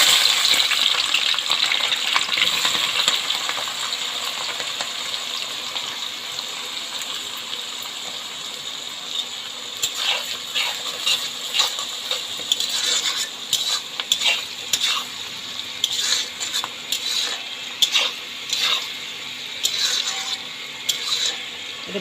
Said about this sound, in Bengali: এবার দেব পেঁয়াজ আর কাঁচা লঙ্কা।